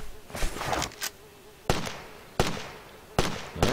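Gunshots in the Lego Jurassic World video game: several sharp, loud reports spaced about a second apart, each with a short decaying tail, over a buzzing game background.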